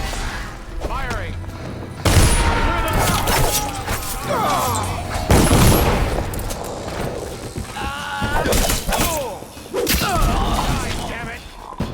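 Dishonored gunfire and impacts come in several loud bursts and thuds, mixed with clattering game action while a voice talks over them.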